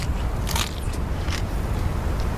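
A bite into a crunchy insect patty of locusts and beetles, with a couple of brief crunching crackles over steady low background rumble, fairly faint and close.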